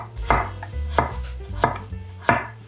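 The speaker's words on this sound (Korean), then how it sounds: "감자 두 개를 썰어 줄 거예요." A knife chops potatoes on a cutting board in four sharp, evenly spaced strikes about two-thirds of a second apart, close and loud, with no voices.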